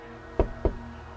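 Two sharp knocks sound in a lobby area, spaced about a quarter second apart, close and fairly loud against a quiet room hum, with no talking.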